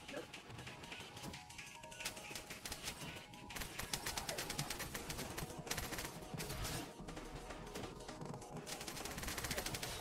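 A weapon in the video game Terraria Calamity fires at a boss in rapid, dense bursts of crackling shots, with electronic game effects layered behind. The firing continues throughout at a fairly low level, and a voice can be heard at times.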